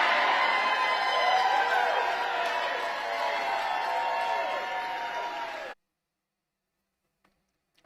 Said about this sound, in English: Listen to the yells and screams that his mom is getting right now.